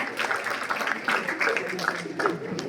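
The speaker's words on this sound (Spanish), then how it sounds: "Un aplauso para Lázaro." An audience at a book presentation of Pedro Elera's poetry claps for Lázaro, a short burst of fairly loud, steady applause in a room.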